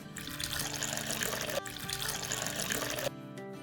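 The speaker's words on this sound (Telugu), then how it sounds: "వాటర్ వేశాను" Tap water running and pouring into a mug, a steady bright splashing stream that continues for about three seconds before stopping abruptly, fairly quiet and with no voices.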